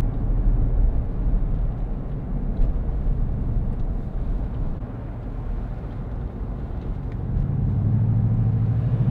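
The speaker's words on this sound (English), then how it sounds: "As we're driving these back roads" A truck driving on back roads through Pisgah in winter, heard from inside as a steady low engine and road rumble that swells slightly toward the end.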